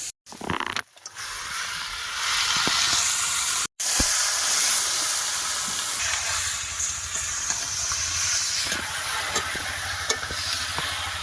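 Chicken is stirred and fried with ground spices, Bengali village style over a charcoal fire, making a continuous loud sizzle and hiss with occasional scraping from the stirring and a couple of brief breaks.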